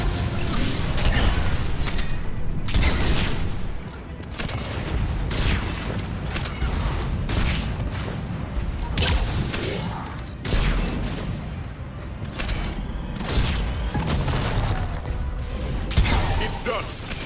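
Heavy gunfire and booming combat noise fill nearly the whole stretch in the Mass Effect 3 battle to retake Omega, with dense bursts of shots and impacts that ease off briefly, plus faint talk underneath.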